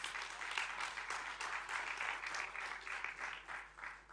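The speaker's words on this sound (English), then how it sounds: "let's give them another round of applause." Sustained, dense applause from a large audience at the Oliver Tambo Memorial Lecture, a steady wash of many hands clapping at once that swells slightly and eases off toward the end, with no talk over it.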